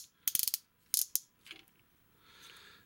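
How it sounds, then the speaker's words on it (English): Ratcheted elbow and knee joints on a Transformers Cloud Hot Rodimus toy click sharply in quick close bursts, a few rapid clicks, a pause, then two more, followed by faint handling. "swivels of thigh, ratcheted elbow or ratcheted knee."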